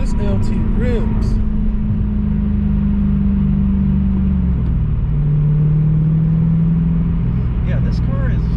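A 1996 Chevrolet Corvette Grand Sport, stock apart from an aftermarket exhaust, rumbles along in a deep, steady, loud engine drone that shifts pitch partway through, with brief voices near the start and end.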